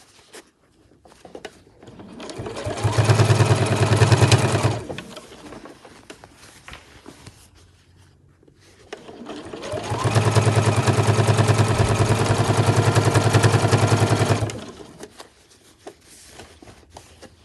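A domestic sewing machine stitches binding through several layers of fabric on a backpack, running in two steady, loud bursts of rapid mechanical whirring separated by a quiet pause.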